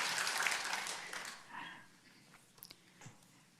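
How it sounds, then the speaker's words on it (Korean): A church congregation applauds during a Sunday worship service. The clapping starts dense and loud, then fades out within a couple of seconds, leaving a few scattered faint noises. "우리 영광의 왕으로 오신 우리 주님께 힘찬 박수 올려드리십시다."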